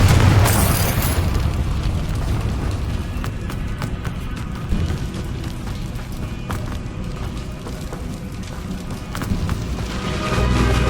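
Fire spell explosion in the video game Hogwarts Legacy, a loud booming burst at the start followed by rumbling, crackling debris and a dense sustained roar that swells again at the end, with no talk.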